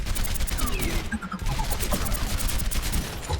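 Rapid gunfire from Overwatch rattles in close, loud bursts at training robots, a dense barrage with a short pause partway through and game effects mixed in.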